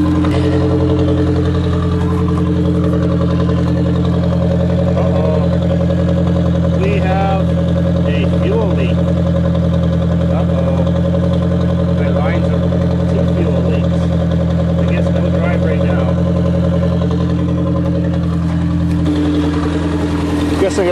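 A turbocharged Chrysler Aries engine idles steadily after its first start, a loud, close, even hum holding throughout while someone talks over it.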